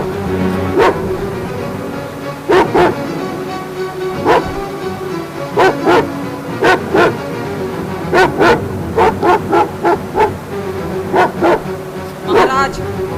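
Hunting dogs bark and yip in repeated short bursts, some close together, over steady background voices in a staged play.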